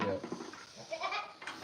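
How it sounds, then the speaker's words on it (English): Goat bleating at a ranch, a few short wavering bleats close by and moderately loud, mixed with faint rustling and background noise. "that Miss Goat playing with her bucket?"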